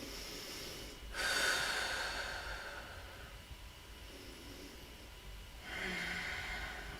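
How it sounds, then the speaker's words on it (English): Deep, audible breaths during a vinyasa yoga flow: a long, forceful inhale and slow exhale, then another breath beginning, close and fairly soft with no talking. "Take a couple of breaths."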